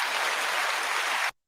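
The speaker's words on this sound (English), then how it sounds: "You had to get applause for that." Audience applause fills the room, a steady, dense wash of clapping that holds evenly for over a second and then cuts off abruptly into silence.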